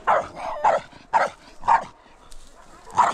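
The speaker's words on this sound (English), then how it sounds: "When the killer chihuahuas are out." Chihuahuas bark in a quick series of sharp, high yips and bow-wows, close and loud, with short gaps between the barks.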